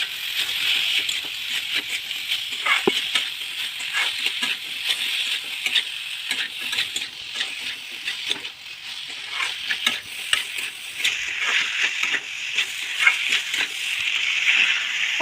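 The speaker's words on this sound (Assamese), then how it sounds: "সৰিয়হখিনিৰ লগত চজিনাখিনি ভালকৈ মিল যোৱাকৈ লৰাই দিছোঁ।" Drumsticks and potato being stirred into white mustard paste in a pan for a drumstick curry, a steady close scraping and soft sizzle running throughout with no talk.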